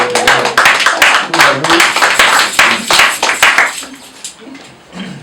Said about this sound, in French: Applaudissez au moins.